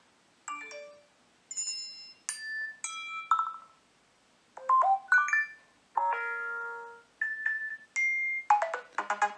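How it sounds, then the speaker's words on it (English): iOS 10 notification sounds and alerts play one after another on a Samsung Galaxy J7 2015 running a custom Nougat ROM: about ten short, clear chimes, dings and melodic tones, each separated by brief silence. "we can go to notification sounds, and we can see iOS 10 sounds and alerts added"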